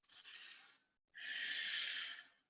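Two forceful breaths during a Kundalini yoga exercise, a long airy exhale, a brief pause, then a longer, stronger breath, close and otherwise quiet.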